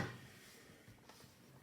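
A drawer of a Pip and Chip floss storage system slides open in a quiet room, a brief soft scrape and knock heard close by with no talking.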